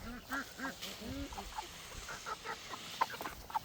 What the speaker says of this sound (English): Come on, broilers.